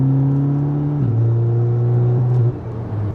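An Audi S3 tuned to around 400 horsepower revs with its exhaust valves open, a loud, close droning note that holds, then steps down with a shift and drops again near the end.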